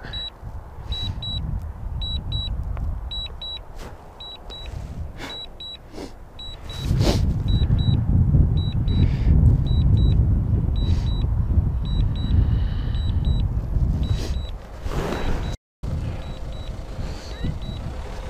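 A car engine rumbles up close, growing louder midway as the vehicle pulls in and settles nearby, while a repeating high electronic beep from a DJI Mini 2 drone controller pips steadily over it.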